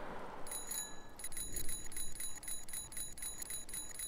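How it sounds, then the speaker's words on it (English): Bicycle bell ringing in The Karaoke, a Chilla's Art video game; quick repeated metallic rings in bursts over faint background noise, no speech. "If you don't move and I'm ringing my bell, it's your fault."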